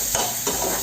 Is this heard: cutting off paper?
no